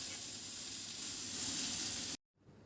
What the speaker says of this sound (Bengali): এখন দেবো ধুয়ে রাখা পটল আর আলুটা।